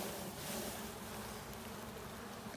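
Honeybees shaken from a hive frame into a basket during varroa mite testing make a dense, steady buzzing swarm drone that stays close and even throughout.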